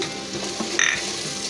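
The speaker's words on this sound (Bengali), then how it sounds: "আমাদের গাজর ভাজাটা হয়ে গেছে" Carrots fry in a pan for vegan fried rice, giving a soft, continuous close sizzle over a very short moment with no talking.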